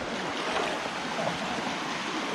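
Strong river current flowing near Eva Eva Falls in DRT, Bulacan, a dense, steady rushing wash of water close by with no voices.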